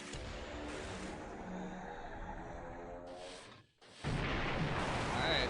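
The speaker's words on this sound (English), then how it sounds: "it's 2 torpedo hits on that one" Torpedo hits on a ship in a WWII naval strategy game, December 1941, heard as sustained loud rumbling explosion noise that briefly drops out, then returns with a sharp, bright blast.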